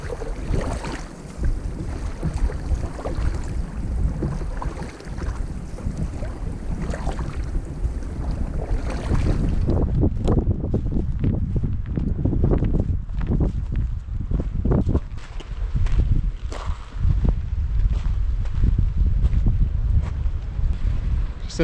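Steady wind roars while paddling on the French River, a broad, continuous rush with gusty buffeting against the microphone and faint water sounds, loud throughout with no speech.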